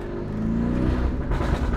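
Lamborghini Urus in Mansory Venatus trim, its engine and turbochargers loud and close as it accelerates, a dense roar that climbs in pitch over a couple of seconds with a faint high whir on top.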